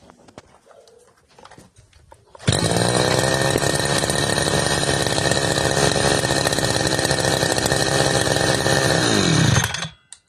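A small petrol brush cutter engine by PRO-CRAFT starts up and runs at a steady high-pitched roar for several seconds, then cuts off abruptly.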